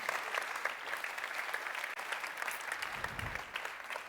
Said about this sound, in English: a bit of a round of applause, please,